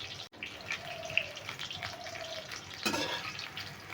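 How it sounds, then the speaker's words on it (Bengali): Soybean chunks fry in oil in a kadai, browning to a light reddish colour, with a soft, fairly faint sizzle, a few light scrapes and a brief louder burst near the end. "এবার একটু হালকা লালচে করে আমি ভেজে তুলে নেব"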